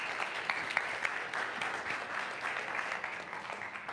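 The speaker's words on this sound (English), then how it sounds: "Let's give Shirley a round of applause" A congregation at a church service gives a short, steady round of clapping for Shirley, moderately distant and even in level, with no voices standing out.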